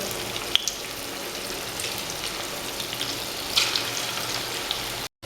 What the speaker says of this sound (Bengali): তেলে দিয়ে ভেজে নেব।